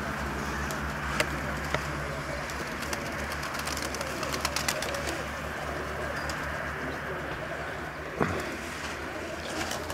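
Racing pigeons, some of them new birds, coo steadily in a loft, with occasional wing flaps and clicks over a constant low hum.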